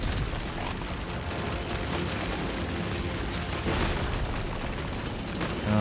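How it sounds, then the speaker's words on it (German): Explosions in the video game Deep Rock Galactic, a continuous loud rumbling barrage of booms and bursts that fills the whole stretch with no clear breaks. No one speaks. "da unten explodiert es halt tonnenweise"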